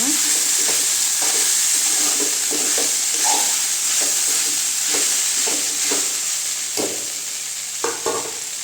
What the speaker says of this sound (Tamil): இப்போ இட்லி உளுத்து வச்சதை சேர்த்துக்கலாம். நல்லா கலரி விட்டுக்கலாங்க.